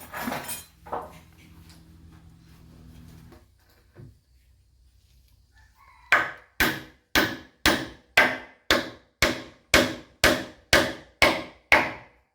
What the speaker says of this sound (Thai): ก็ทำการตีตะปูไว้ก่อนนะครับ